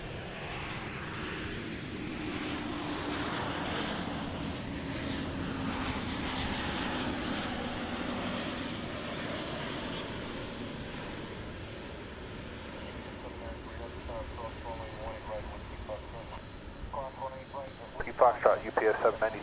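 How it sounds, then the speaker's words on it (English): An American Airlines Airbus A321 jet arrives at DFW Airport at night with a broad engine roar that swells and slowly fades, while voices and radio chatter carry on over it. "As we have an arriving American Airlines Airbus A321 from Las Vegas."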